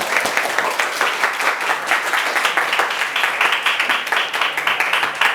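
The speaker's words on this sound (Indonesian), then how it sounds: "silakan berikan tepuk tangan untuk kelompok 1" Students in a classroom clap for a presenting group, a loud, close, busy patter of many hands with a slightly uneven pulsing rhythm that continues throughout without voices.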